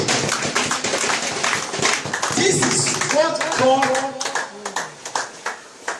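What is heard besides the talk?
congregation clapping hands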